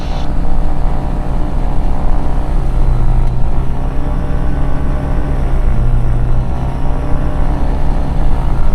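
A Diamond DA20 Katana's Rotax aircraft engine drones steadily at about 1900 RPM during a run-up with a variable-pitch propeller, a loud, close, continuous buzzing hum with a subtle pitch shift midway.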